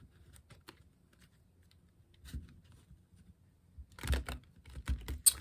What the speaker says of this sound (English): Let's continue by pulling 4 tarot cards for the day. Some shuffling first,